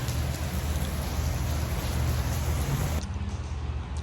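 Heavy rain pours down in a steady, loud roar for about three seconds, then eases abruptly to a softer, thinner patter, with no talking.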